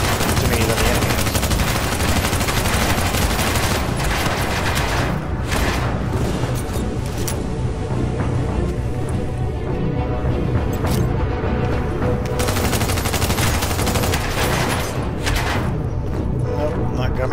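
Turret guns fire in a video game battle, a loud, nearly continuous stream of rapid shots and blasts with brief gaps, while a player talks over it.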